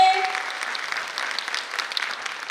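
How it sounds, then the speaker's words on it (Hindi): Loud applause from an audience at a pre-primary school annual function, clapping for the parents: a dense burst of many hands that gradually eases off over a couple of seconds. "अपने अपने पेरेंट्स के लिए एक बार जोरदार तालियां हो जाए"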